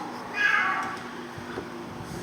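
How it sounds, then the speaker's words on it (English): A pet cat meows once, a drawn-out mid-pitched cry from just outside a door in a house, followed by quiet room noise. "we'll make sure that Sting, my cat, does not go in."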